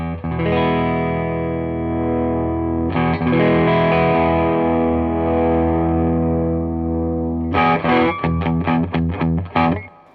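Electric guitar through a Klon-style or Tube Screamer-style overdrive pedal with op-amp clipping diodes, giving a honky, gritty tone: loud sustained distorted chords rung out and restruck, ending in a quick series of choppy palm-muted stabs.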